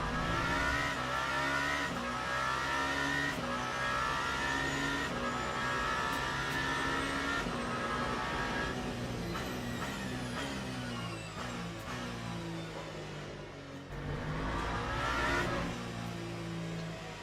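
Hypercar engine from a racing sim at Imola drones steadily and loudly throughout, with sustained harmonic revving that rises and falls through gear changes and occasional tire squeal, no talking over it.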